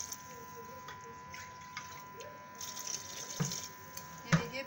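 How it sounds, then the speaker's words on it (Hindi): Water is poured into a pot of cooking gilki (sponge gourd) pieces, a soft splashing trickle with small sloshes and a couple of louder clinks near the end, fairly quiet overall. "अब हम इसमें पानी डाल देंगे।"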